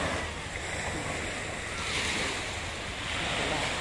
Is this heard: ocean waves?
yes